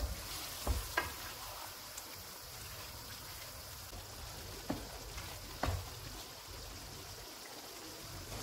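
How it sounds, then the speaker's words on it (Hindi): Marinated keema minced meat sizzles quietly in a pan, a faint steady fry broken by a few sharp scrapes and clinks of stirring. "3 मिनट के बाद मैरिनेटेड कीमा डालेंगे और इसको 6 से 7 मिनट तक भूनेंगे।"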